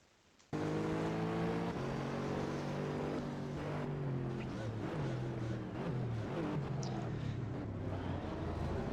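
A racing car engine in a sim racing video game benchmark starts abruptly and roars continuously, its pitch rising and falling through gear changes, loud and steady with no talk.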